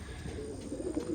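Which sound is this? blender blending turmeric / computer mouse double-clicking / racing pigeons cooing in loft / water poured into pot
racing pigeons cooing in loft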